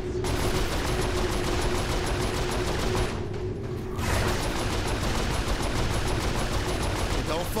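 Turret gunfire in Saints Row IV, loud continuous rapid-fire rattling with mechanical clatter, briefly breaking off for a moment before resuming, with voices speaking over the shooting.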